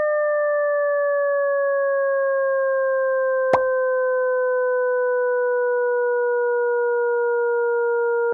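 A steady electronic sonification tone from a Desmos graph plays at the slowest speed, a sustained sine-like pitch with soft overtones that glides down gently for about eight seconds, broken once by a brief click partway through.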